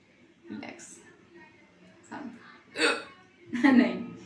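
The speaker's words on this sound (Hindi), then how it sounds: "हिचकी है ही हिचकी" A woman's hiccups come in sharp repeated bursts about a second apart, close and loud, while she is washing dishes.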